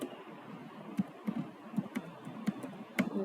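Close keystrokes on a computer keyboard: a handful of separate clicks spaced irregularly about half a second apart over a quiet room hum, with no voices.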